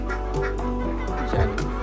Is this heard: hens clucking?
yes